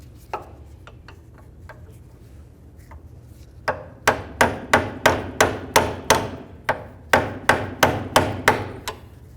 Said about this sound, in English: We want to go ahead and peen that over so it's into the groove and then we'll do the same to the other one.